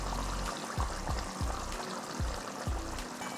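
A cracked egg is poured into simmering egg curry, with a steady bubbling simmer throughout and several soft, gloopy splashes recurring at intervals as the egg slides into the gravy.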